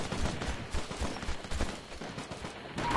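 Dense, continuous gunfire from a firefight in the military shooter Operation Flashpoint: Red River, with rapid overlapping shots and bursts rolling on throughout, steady and moderately loud with no talk over it.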